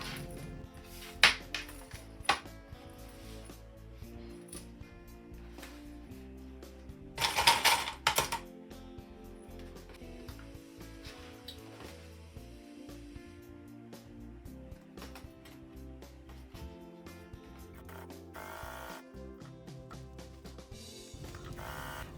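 A sewing machine with a zipper presser foot topstitches alongside a zipper, making faint rapid mechanical clatter in short bursts with brief pauses. One louder burst comes near the middle.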